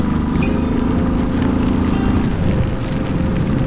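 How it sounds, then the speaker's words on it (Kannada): Strong wind roaring steadily into the microphone, a constant low rumbling buffet with no breaks. "ಸಿಕ್ಕಾಪಡೆ ಜೋರ ಗಾಳಿ ಬೇರೆ ಬೀಸ್ತಾ ಉಂಟು"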